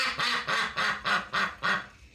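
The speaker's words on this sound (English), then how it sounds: "she hears ducks quacking on the video" Six rhythmic duck quacks come in quick, evenly spaced succession, loud and clear, playing back from a video being edited, with no voices.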